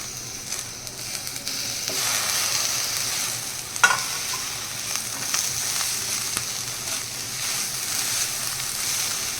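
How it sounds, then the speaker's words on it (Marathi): Grated coconut and tomatoes frying in a pan for a Konkan-style fresh cashew curry give a steady, close sizzle, with a few stirring scrapes and one sharper clink near the middle. "खोबरं छान फ्राय झाल्यानंतर आपण ह्याच्यामध्ये टॅमॅटो पण टाकून घेऊया लगेच"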